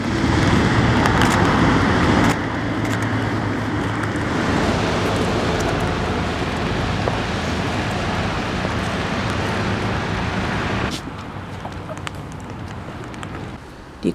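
Cars pass along a road in Rikuzentakata, Tohoku, Japan, a continuous loud whoosh of traffic that drops to a quieter rumble near the end, with some talking mixed in.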